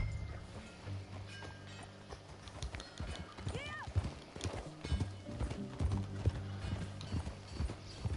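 Horse hooves clip-clopping at a walk in Red Dead Redemption II, a steady rhythmic patter with creaking tack, a short whinny and game music underneath.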